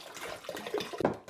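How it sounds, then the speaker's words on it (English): Cold water poured into a vessel while making wine from Haribo sweets, a brief close splashing and gurgling pour that turns choppier toward the end, with no talk. "now what we're going to do is we're going to add the cold water."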